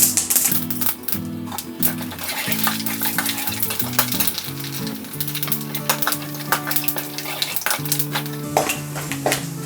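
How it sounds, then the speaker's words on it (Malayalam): Mustard seeds splutter and pop in hot oil with a pinch of rice added, a dense run of sharp crackles over a steady sizzle, loud and close, with light utensil clinks. "കടുക് പൊട്ടിയിട്ടുണ്ട്."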